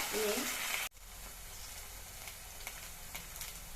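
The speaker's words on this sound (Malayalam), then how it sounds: "കൂടെ തന്നെ കത്തിരിക്കയും വഴറ്റിയെടുക്കാം." Brinjal sautéing in a pan for sambar: a loud burst of sizzle, an abrupt cut, then a softer steady frying hiss with faint clicks of stirring.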